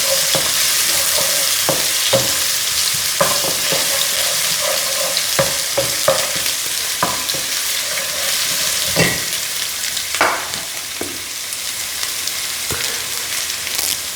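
Crushed garlic and ginger sauté in a pan for a Kerala-style egg biryani, giving a steady sizzle under repeated scraping stirs and utensil knocks against the pan, with no talking.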